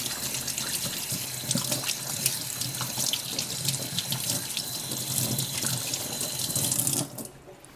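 Water runs steadily from a sink tap for about seven seconds while something is washed beneath it, then the flow cuts off and only a quiet room remains.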